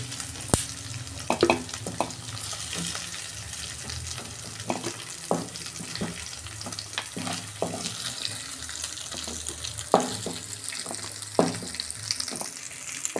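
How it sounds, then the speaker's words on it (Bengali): Pakoras deep frying in hot oil give a steady, close sizzle throughout, with scattered sharp pops and occasional utensil clinks, and no talking. "এইভাবে আমি সব পকোড়াগুলো ভেজে নেব"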